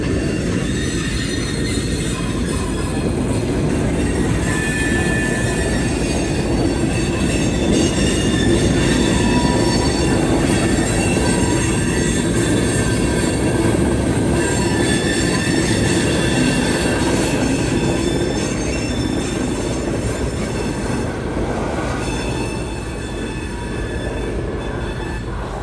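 A heavy Norfolk Southern freight train rolls steadily along street-running spur track with a constant low rumble and grinding wheel noise, high metallic squeals ringing over it throughout.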